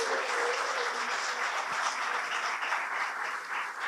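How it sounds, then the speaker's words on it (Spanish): A church congregation applauds during a sermon, a continuous even wash of many hands clapping at moderate distance, holding steady throughout without speech. "Dale un fuerte aplauso a Dios si lo crees."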